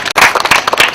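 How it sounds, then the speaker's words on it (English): A short burst of hand clapping from an audience at a talk on insecurity in Uganda, several close sharp claps in quick succession over about a second. "Let's welcome him again with a big hand clap."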